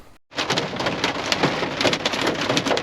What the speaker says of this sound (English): It is hailing on me.